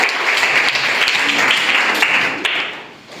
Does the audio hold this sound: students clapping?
yes